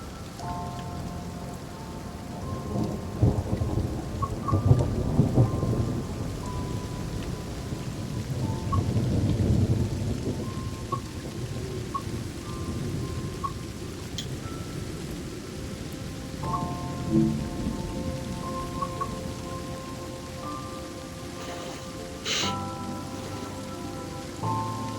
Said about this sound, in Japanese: 雷がえらい。 バリバリバリバリ。